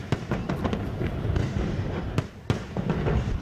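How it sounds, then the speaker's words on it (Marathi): Fireworks display at Shivaji Park during an evening Deepotsav festival opening, with repeated sharp bangs and crackles bursting over a dense, continuous rumble of distant explosions. "त्यानंतरची शिवाजी पार्कवरची ही फटाक्यांची आतषबाजी सुरू आहे"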